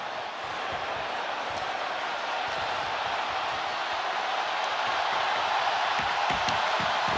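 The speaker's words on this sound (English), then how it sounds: "The crowd roaring" A packed hockey arena crowd roars steadily through a Stanley Cup playoff Game 7 between the Avalanche and Stars during a Dallas power play, a dense, loud, sustained wash of noise with no break.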